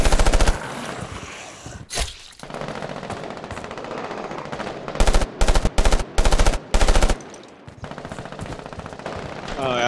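A rifle fires long, loud bursts of automatic fire in the shooter game Moving Hazard. After a brief gap come a few short, choppy bursts, then the fire stops with no talking.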